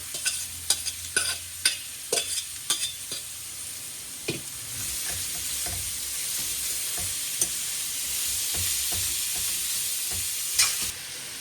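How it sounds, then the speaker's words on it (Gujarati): Onions fry in a pan for a hotdog filling, giving a constant sizzle with sharp spatula clicks and scrapes, bunched near the start and then spread out, close by and with no talk. "હવે આપણે એના પછી કાંદા એડ કરશું. એડ કરી અને બરાબર એને મિક્સ કરી દઈએ."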